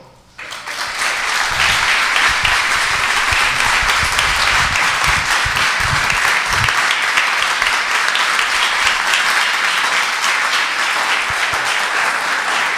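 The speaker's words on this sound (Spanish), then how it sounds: "quiero que le den un aplauso al Señor." Sustained audience applause in a church service, a dense wash of many hands clapping that starts abruptly and stays loud and steady throughout, with no voices over it.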